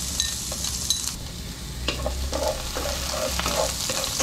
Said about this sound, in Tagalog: inumpisa na natin ilagay ang bawang, sunod ang sibuyas at isinunod na rin natin ang